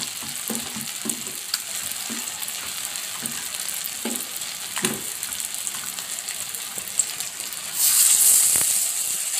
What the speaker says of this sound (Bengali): এরকম করে আমি লাগিয়ে আর এটা তেলে দিয়ে দেবো। তেলটাও আমার গরম হয়ে গেছে